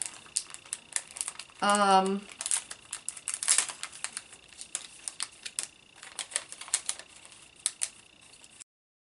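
Paper strips crumpled and tossed away at a crafting desk: a steady run of close, crisp crinkles and small ticks, with a brief squeaky burst early on.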